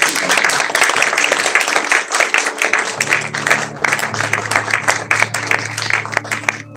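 A church congregation at a baptism service applauds in sustained, dense clapping that fills the room, with a low musical tone entering partway through and faint voices mixed in.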